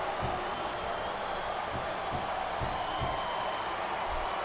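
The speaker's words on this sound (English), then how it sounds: "These superstars are getting some feedback from the crowd, JR." Arena crowd in the wrestling video game WWE SmackDown vs. Raw 2008, a steady roar of cheering with faint scattered claps and thumps throughout, loud and continuous.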